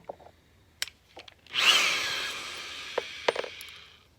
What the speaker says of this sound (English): Now we need a drill bit that's good enough to actually drill through here.